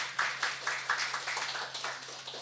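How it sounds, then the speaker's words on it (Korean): A church congregation claps at a Sunday service, a soft scattering of hand claps in a loose, uneven rhythm, faint and somewhat distant, with no voices over it. "우리 이춘자 권사님 박수 좀 한번 해드려야 돼."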